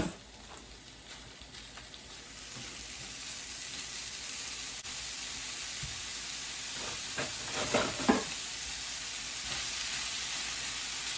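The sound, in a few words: two pounds of ground beef sizzling while browning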